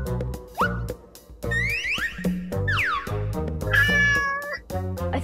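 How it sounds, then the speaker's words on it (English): A cartoon cat meows several times in rising and falling, bouncy cries over a light musical backing, with short pauses between calls. "I think I see the cat."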